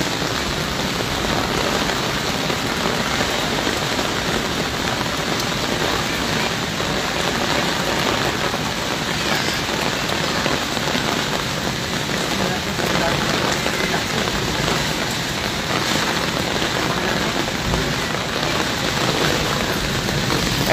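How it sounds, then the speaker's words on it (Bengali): Heavy rain with hail during a windy storm in Arambagh hammers on surfaces and tin roofing, a dense, loud, unbroken roar that holds steady throughout. "বৃষ্টির পরিমাণটা আপনারা দেখলে বুঝতেই পারবেন"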